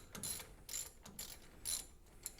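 A ratchet being worked to loosen a bolt in a home garage, several quick bursts of bright clicking with short pauses between, fairly close and moderately loud.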